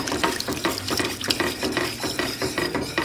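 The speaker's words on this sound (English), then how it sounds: "we're simply going to add it in small batches like this, and we're going to whisk as we go" A whisk working broth into turkey gravy in a pan, a steady rhythmic scraping and sloshing of liquid that stays close and fairly loud the whole time, with no voices over it.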